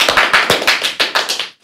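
A small group of people claps during a Himachali podcast recording, giving about ten close, loud, quick claps in a steady rhythm that stop abruptly, with no speech.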